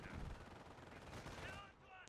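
Machine gun fire rattles in the World War II strategy game Company of Heroes, a continuous dense burst of rapid shots running for about two seconds, with voices faintly mixed in.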